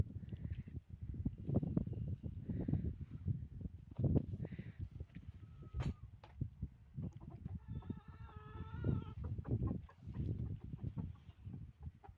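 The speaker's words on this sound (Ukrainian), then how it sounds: "Кури зайняті роботою своєю." Hens clucking softly nearby, steady low murmuring calls with an occasional higher cackle, no talk over them.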